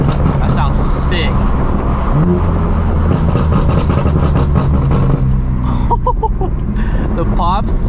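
BMW F80 M3 with a new exhaust revs loudly and continuously, ending in a few sharp pops and crackles near the end, with a person speaking over it.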